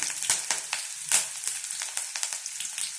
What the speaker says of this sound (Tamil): கடுகு பொரிஞ்சோன்னே நான் 4-5 வெங்காயம் எடுத்து வச்சுட்டு போட்டேன்.